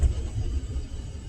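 A car rumbles along at low speed through a residential neighborhood, its engine a steady, close low drone that swells slightly without talk over it.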